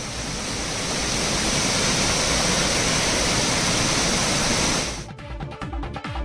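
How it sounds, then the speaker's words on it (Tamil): A flooding waterfall such as Courtallam or Hogenakkal roars as a dense, loud, continuous rush of water for about five seconds, then drops abruptly to a lower, choppier wash. "குற்றாலம், ஒகேனக்கல் போன்ற அருவிகளில் வெள்ளப்பெருக்கு ஏற்படும் அபாயம் இருப்பதாகவும்"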